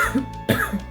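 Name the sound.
cough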